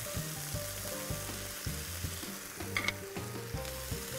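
Fillet pieces seasoned with black pepper frying in oil in a pan, a steady, fairly quiet sizzle with a few brief clinks and scrapes, set against a low background hum.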